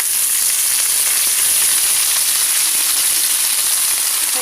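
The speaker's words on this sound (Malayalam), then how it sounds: "നമ്മൾ വഴറ്റി ഇല എടുക്കണം. ഇനി നമുക്ക് ഇല ഇട്ട് കൊടുക്കാം." Drumstick leaves hit a hot pan for a home-style curry, setting off a loud, continuous, close-up sizzle with steady frying hiss throughout.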